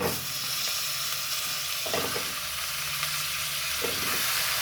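Chicken pieces hitting frying onions in a hot pan sizzle steadily and close up, with a couple of brief stirring scrapes and no talk.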